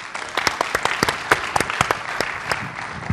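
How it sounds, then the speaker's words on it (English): A conference audience applauds a speaker at a public sector session, with scattered, distinct hand claps forming a moderate, uneven round of applause. "Give Mike a round of applause."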